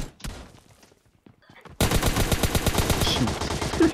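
Video game gunfire, a sudden burst of loud rapid automatic shots that continues steadily after a quieter stretch of scattered noise and brief talk.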